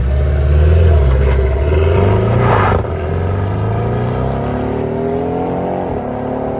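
A 2017 Porsche 718 with a 2.0-litre turbo engine and an aftermarket cat-back exhaust revs loudly close by, pitch climbing then dropping sharply before settling into a smoother, fading rise and dip.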